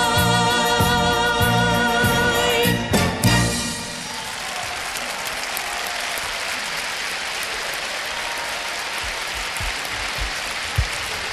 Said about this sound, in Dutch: Veel applaus voor Katja Epstein met Theater.